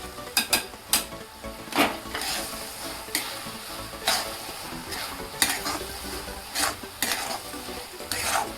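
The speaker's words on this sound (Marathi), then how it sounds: "आता हे शेंगदाण्याचा कूट आता हे घालायचं आहे" Tomato chutney with crushed peanut powder is stirred in a pan, the spoon scraping and knocking against the metal in irregular strokes over a soft sizzle, close and fairly quiet.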